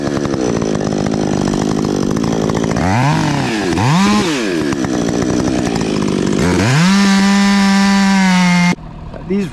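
A Husqvarna 562 chainsaw cutting dead ash wood, loud and close, its engine pitch swooping up and down as it bogs and revs through the cut, then holding a steady high scream before dropping off.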